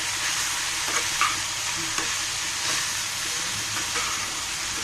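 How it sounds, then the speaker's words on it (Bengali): Bitter gourd frying in a pan with turmeric and coriander-cumin powder sizzles steadily while a spoon stirs and scrapes, with soft knocks against the pan at a regular pace, close up and with no talk. "মশলাগুলো আমি ভালো করে মিশিয়ে দেব"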